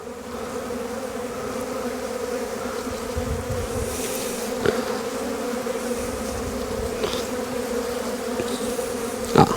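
Honeybees drone steadily at a beehive colony in December, a continuous close buzzing hum with occasional faint knocks and no talk.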